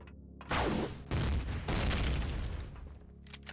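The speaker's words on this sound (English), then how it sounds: "I love the blaster for getting those sentry guns" A blaster fires at sentry guns in the video game Empyrion: three loud, booming shots in quick succession, each trailing into a rumbling tail.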